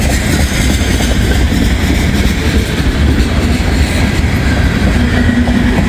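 Coal train with coal cars at the front rolling past outdoors, a steady loud rumble with rhythmic wheel clatter that stays constant throughout, no talk.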